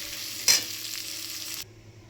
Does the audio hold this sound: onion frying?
yes